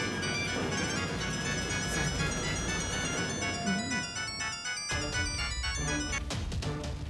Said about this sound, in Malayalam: ഇതെന്താ നീലാംബരിയുടെ വീട്ടിൽ നിന്ന് ഫോൺ?